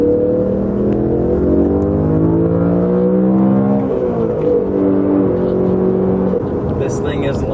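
A survivor BMW M3 engine revs hard toward 8400 RPM, a loud, continuous rising and falling mechanical drone that holds steady at close range for several seconds.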